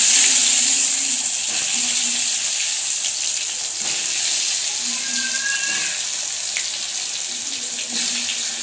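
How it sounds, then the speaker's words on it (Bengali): Eggplant pieces frying in hot oil for a garlic eggplant dish, giving a steady close sizzle and crackle with faint occasional clinks, no talking. "এবার আমি বেগুনগুলো ভেজে নেব।"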